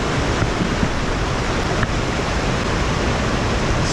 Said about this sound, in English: the water wheel for the mill is right over here on obviously this side of the building